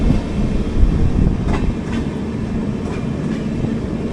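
The 12201 Garib Rath Express runs along the Konkan Railway with a loud, steady rumble and a faint clatter of wheels over the rail joints, heard alone.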